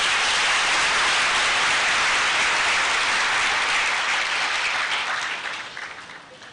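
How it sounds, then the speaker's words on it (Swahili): A conference hall audience at a pharmaceutical society scientific meeting in Kenya breaks into sustained, dense applause, loud and even, then trailing off over the last second. "Makofi lakini."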